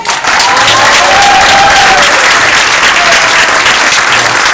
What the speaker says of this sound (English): let's give a huge round of applause to the A.C.L.U.